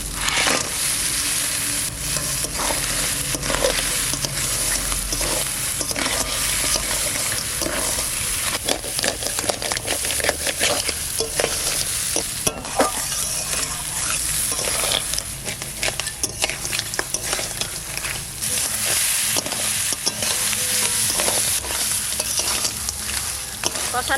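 Crab is stir-fried in a pan with salt and turmeric for a village-style Sundarbans crab curry: a continuous close sizzle under constant scraping and stirring strokes, with crunchy shell clatter throughout.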